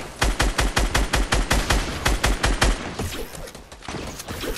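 Rapid bursts of automatic gunfire in Fortnite, a steady fast string of loud sharp shots for a few seconds, then scattered distant shots trailing off, with no talk over them.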